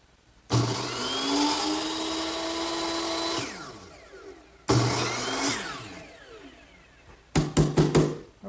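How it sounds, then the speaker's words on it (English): A hand saw cuts window stop molding set in a miter box at a preset angle, heard as two sustained rasping cutting passes followed by a cluster of sharp knocks as pieces are handled, close and clear with no talk. "Now I'll just take it over to my miter box, which just has been set at the right angle"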